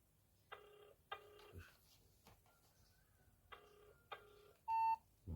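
A telephone rings through a call with repeated ring bursts, two near the start and two more about three seconds later, then a short steady tone. The sound is moderately clear over a quiet, low hum.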